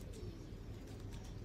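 Golden pigeon, a soft-feathered female bird, cooing in low, steady murmurs close by, with faint background noise and no talking.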